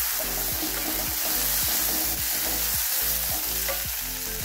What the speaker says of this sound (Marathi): हे सगळं मिक्स करून घेऊया